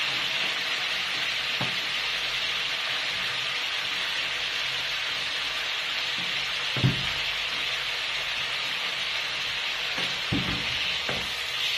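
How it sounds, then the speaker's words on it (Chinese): Crayfish stir-fried in a pan at home give a steady, loud hiss of oil, with occasional scraping knocks from the spatula tossing the shells throughout. "开始翻炒了。"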